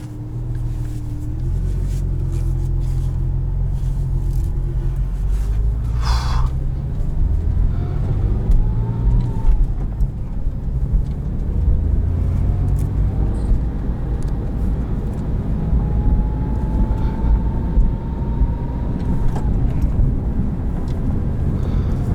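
A 2007 Porsche 997 Carrera S with a manual gearbox drives along with a steady low engine rumble from inside the cabin. The engine note rises and falls through the gears, with a clear climbing tone near the end.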